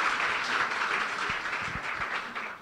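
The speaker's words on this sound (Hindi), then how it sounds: "जोरदार तालियां हम उसके लिए बजा दें" Church congregation claps in loud, steady applause during a sermon, a dense wash of many hands filling the room for a few seconds without a break.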